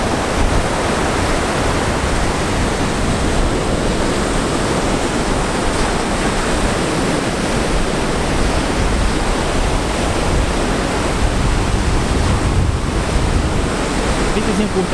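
Ocean surf rolls steadily onto the shore at Deerfield Beach near Pompano Beach, a dense, constant wash of breaking waves mixed with wind rumble against the microphone and no clear pause.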